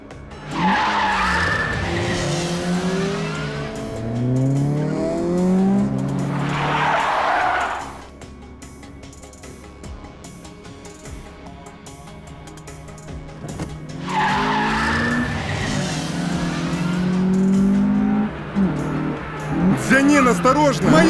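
An expensive car skids with squealing tires in harsh bursts near the start and again toward the end. A lower engine drone fills the quieter middle stretch.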